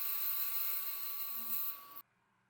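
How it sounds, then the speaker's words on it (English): A bandsaw separates cut wooden plugs made for fine furniture, giving a steady, high, whining motor hum that drops away abruptly near the end. "After the cut, I separate them on the bandsaw."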